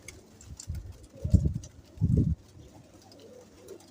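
Low, soft coos from a Teddy pigeon in two short bursts, close by, with faint background rustle and no talking.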